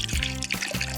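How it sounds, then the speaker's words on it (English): Warm water pours briefly into slime activator while making winter slime, giving a short, close liquid splash and trickle with no talking. "We're gonna add the warm water to the activator here."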